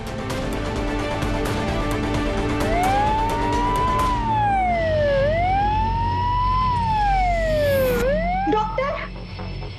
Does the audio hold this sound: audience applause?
no